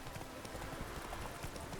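Roach the horse trotting in The Witcher 3, a quick rhythmic clip-clop of hooves over a steady ambient bed, with faint voices in the background.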